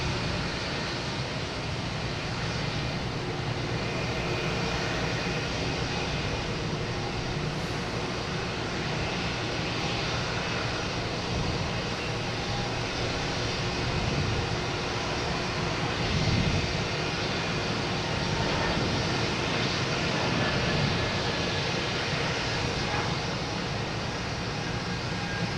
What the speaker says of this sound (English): And now we have JetBlue taking off, heading to Austin,